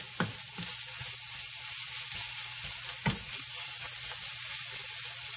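Corned beef hash fries hard in a pan, giving a continuous close sizzle with a few sharper crackles and pops scattered through, no voices over it.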